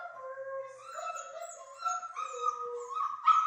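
A puppy whimpers and howls in a steady stream of high, wavering cries, close by, with a few sharper yelps near the end.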